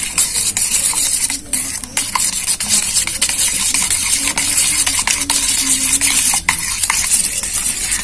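Eggs being whisked hard in a bowl for egg toast, a fast, steady scraping and clicking that runs loud and close through the whole stretch with no voices.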